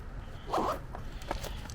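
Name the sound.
zipping up a Heimplanet sling bag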